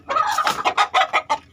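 A group of breeding hens clucking close by in a series of quick, overlapping bursts, with no talk over them.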